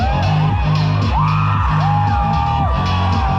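Festival crowd at the Karbi Youth Festival in Assam yelling and whooping at bodybuilders, a loud continuous roar of many voices with repeated rising shouts and calls.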